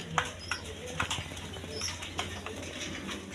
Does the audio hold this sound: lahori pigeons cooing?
yes